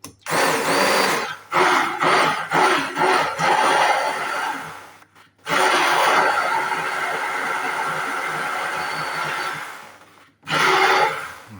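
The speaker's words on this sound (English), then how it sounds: "we can use the hand blender to do the mixing" A hand blender whirs through chickpea soup in several short loud pulses, then one long continuous run of blending, then a final brief burst, with no voices.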